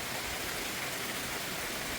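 Steady broadband rush of spring rainwater running across a yard and pooling, like a river of runoff, continuous and fairly close with no voices.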